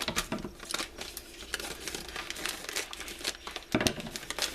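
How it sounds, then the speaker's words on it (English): A whole 12-ounce bag of Nestle white chocolate chips is tipped out, giving a loud, close crinkle of plastic packaging and a scattered patter of chips. "I'm going to add some Nestle White Premier chocolate chips. And this is the whole entire 12-ounce bag."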